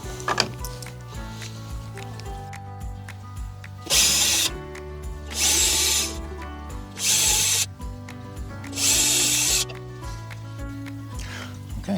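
A power drill bores pilot holes into a wooden garden gate while a ring latch is fitted, running in four distinct bursts of a few seconds each, loud and close, with a tonal hum between them.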